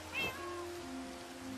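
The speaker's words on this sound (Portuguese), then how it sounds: "Y cuando te pegan hacen como gatos." A cat meow sounds from Minecraft cat-themed boots as the wearer is hit, one short clear mew rising and falling, with a faint steady game tone trailing behind it.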